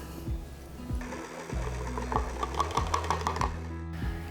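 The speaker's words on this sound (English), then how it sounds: "we don't want the stand mixer to send out all kinds of flour into the air" A stand mixer beats cookie dough with flour, giving a steady whirring motor hum with rhythmic knocking and clicking as the beater turns, close and fairly quiet.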